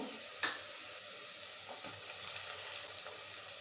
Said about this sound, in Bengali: 2 টেবিল চামচ আদা রসুনের পেস্ট দিয়ে দেব